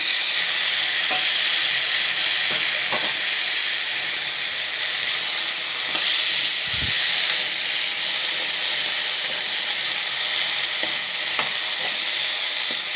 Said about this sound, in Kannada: ಟೊಮೊಟೊ ಸಾಫ್ಟ್ ಆಗೋವರೆಗೂ ಫ್ರೈ ಮಾಡಿ